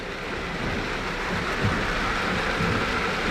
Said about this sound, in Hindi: बारिश इतनी तेज़ है कि